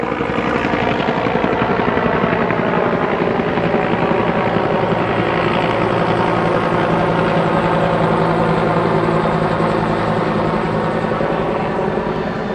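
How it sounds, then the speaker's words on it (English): A helicopter roars loudly and continuously with a rapid rotor thump, steady and close, flying low over the city of Belgrade, Serbia, with no voices. "it was a helicopter flying real low across the city"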